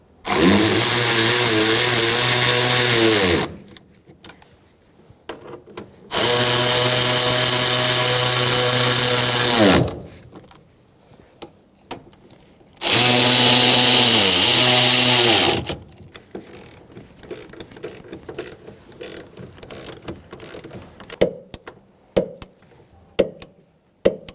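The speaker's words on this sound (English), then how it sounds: "now we're going to tighten our nuts on the top" A power tool tightens the top strut nuts on a 2000-2007 Ford Taurus 3.0L V6 in three loud, sustained whirring bursts of a few seconds each, with quiet clicks and rattles between them.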